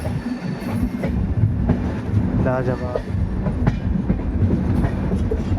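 Lucknow Double Decker Express (12583/84) running on rails near Ghaziabad Junction, continuous close rumble with rhythmic clatter and a short burst of wheel squeal, while someone speaks briefly over it.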